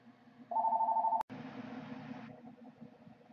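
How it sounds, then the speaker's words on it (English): Telephone rings in the background, a single faint electronic trill burst followed by a click and a softer hiss, with no talk over it. "there's a phone ringing in the background"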